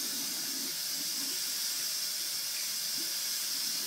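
Water runs from a tap in a steady, bright hiss as a child washes hands at a sink, constant and close, with faint low thumps of hands moving under the stream.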